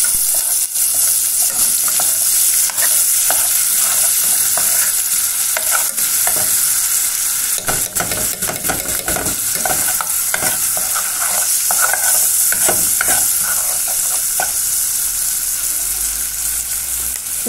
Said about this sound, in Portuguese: Tô refogando meu alho